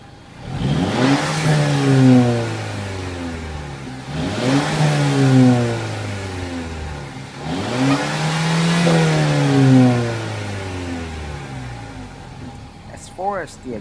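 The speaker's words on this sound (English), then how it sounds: "And now with the sport on." Loud, close revving from a 2014 Mercedes-Benz CLA250 Edition 1 in sport mode: three strong bursts that climb and drop back toward idle, then a brief clatter at the end.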